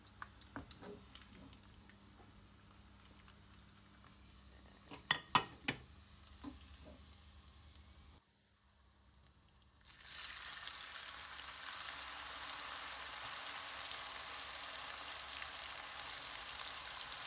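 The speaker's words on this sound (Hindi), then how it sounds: "इसी तरह हम सारी चिकन को पहले फ्राई कर लेते हैं" Chicken pieces fry in a pan: scattered spoon taps and clinks, a short lull, then a steady, broad sizzle that runs on to the end at a low, even level.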